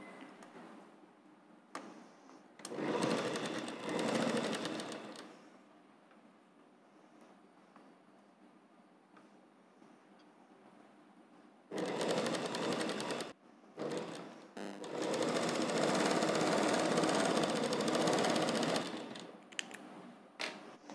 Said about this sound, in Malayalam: അപ്പോൾ നമ്മുടെ പെറ്റിക്കോട്ട് ഇവിടെ സ്റ്റിച്ച് ചെയ്ത് കഴിഞ്ഞിട്ടുണ്ട്